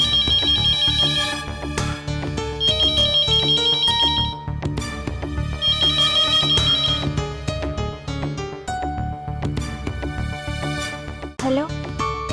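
A phone's melodic ringtone in a domestic scene from an Odia TV serial plays loudly and keeps repeating its tune over dense background music.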